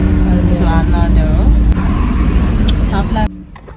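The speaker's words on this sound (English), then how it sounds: "Let me show you guys the traffic." Road traffic with cars crawling between junctions: a continuous rumble of engines and passing vehicles, close and loud, with people talking over it before the noise suddenly drops away at the end.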